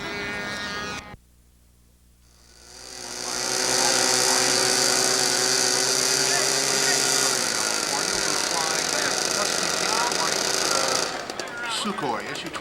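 An Sukhoi Su-26M RC model airplane engine at an RC air field revs up after a brief lull into a loud, sustained high-pitched buzzing drone that holds steady for several seconds, then becomes rougher near the end.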